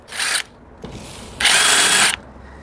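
Power drill boring a pilot hole for a wooden door hinge screw, two short whirring bursts with a quieter pause between, the second longer, heard up close without talk.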